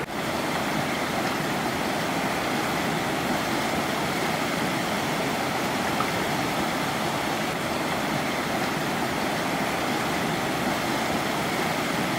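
Constant rushing water from Bear Creek in the Smoky Mountains, a steady broadband flow without breaks, close and fairly loud.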